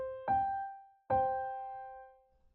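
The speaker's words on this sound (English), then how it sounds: "I'm going to play the first 5th. Sounds like this." Two struck tones ring out one after another, each a clear sustained perfect fifth that slowly decays, with quiet between them.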